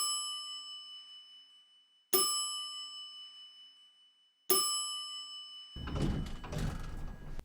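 An elevator chime dings three times at even intervals, each ring clear and slowly decaying, followed by a burst of rustling, clattering noise.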